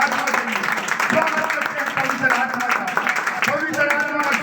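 A congregation claps at a live Sunday prayer service in a Hindi-speaking church, giving a lively, continuous patter of hands mixed with voices and cheering throughout.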